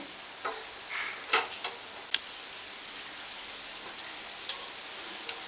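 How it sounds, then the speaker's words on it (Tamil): Breadcrumb-coated potato balls frying in oil over a medium flame, a soft steady hiss with occasional small pops and clicks, close and fairly quiet, with no voices. "நல்லா மீடியம் ஃப்ளேமில் வச்சு வேக வச்சு எடுத்துக்கோங்க"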